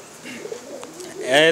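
Pigeons coo close by in a short, soft burst of low throaty calls, rising slightly louder at the end.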